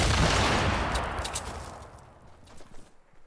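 Sniper rifle gunfire in a video game, a loud burst of sharp cracks at the start that trail off into fading echoes and faint rattles.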